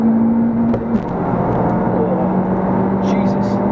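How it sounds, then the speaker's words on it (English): Turbocharged engine of an FK8 Honda Civic Type R droning loudly from inside the cabin, holding a steady pitch that abruptly shifts lower about a second in, then whirring on, with brief faint voices near the end. "Away we go, then turbo kicks in. Revs run out, hit the rev limiter."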